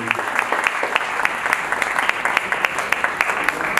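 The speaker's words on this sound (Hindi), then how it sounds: "सभी से निवेदन है तालियां वाली एक बार जोरदार वाली होनी चाहिए।" Loud, sustained applause from a crowd at a Hindi poets' honour ceremony, dense overlapping claps with sharper individual hand claps standing out throughout.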